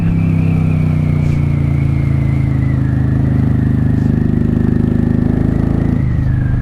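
A 1995 Honda Shadow VLX 600 V-twin motorcycle with open exhaust and a jet kit, pulling hard in second gear at wide open throttle, a loud, close, continuous rumbling drone that rises slightly in pitch, with no talk.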